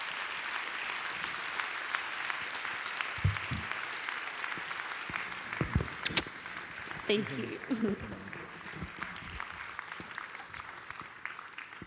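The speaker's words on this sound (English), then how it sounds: "another round of applause for Tracey's beautiful story" Sustained audience applause at a charity chocolate ball in Sydney after a guest speech, a steady broad clatter of many hands running the whole time, with a brief spoken thanks and a few louder nearby claps partway through.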